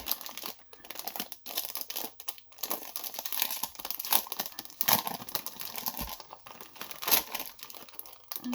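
Large heavy paper envelopes being handled, giving close, loud crinkling and rustling in irregular bursts with sharper crackles, and no talking over them.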